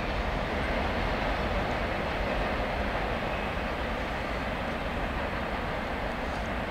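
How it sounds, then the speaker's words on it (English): Rear of a Norfolk Southern manifest freight train rolling southbound past a rail junction, a steady broad rumble and wheel roar holding even throughout, with no voices. "Goes the rear of NS-119 southbound two to the single track by CP Lyman."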